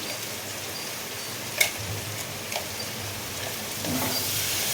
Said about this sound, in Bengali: আলুটা কষে দিচ্ছি